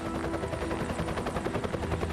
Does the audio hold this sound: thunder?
no